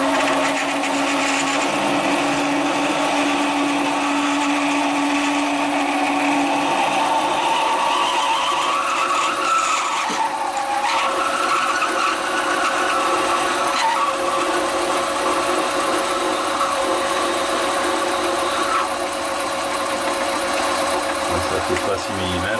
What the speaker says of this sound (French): je vais percer à 9 sur 6 mm de profondeur à peu près